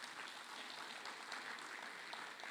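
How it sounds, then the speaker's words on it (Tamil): Audience at the National Thirumurai Conference in Malaysia clapping steadily, a dense, even wash of applause heard from some distance, fairly faint throughout. "ஒரு பெரிய கைத்தட்டல் கொடுத்தாக வேண்டும்"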